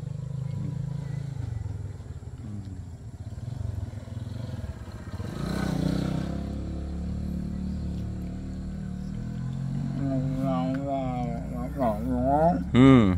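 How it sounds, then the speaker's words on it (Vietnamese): Motorbikes ride by on a rural mountain road-building site at Lũng Cáng, making a low engine rumble with a brief swell near the middle. Voices talk over it throughout. "xe máy họ đi"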